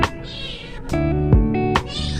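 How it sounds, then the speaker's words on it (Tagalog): A cat meows loudly and insistently in a home kitchen, several sharp calls in quick succession with short pauses between them, close to the microphone and heard alone. "Ang ingay ng pusa."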